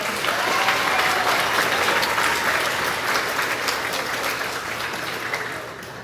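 A crowd at a grades 4-6 school awards ceremony claps steadily in one continuous round, loud and dense from the start and easing off gradually over six seconds, with no voices on top.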